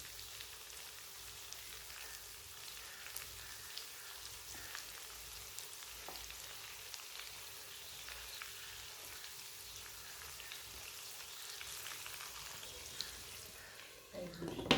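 Stuffed eggplant masala curry cooks in a pan with a steady, soft sizzle throughout and faint stirring clatter as the pieces are turned, ending in a brief louder knock.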